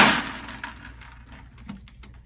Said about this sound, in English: you can hear the dead leaves hitting the bottom of the cauldron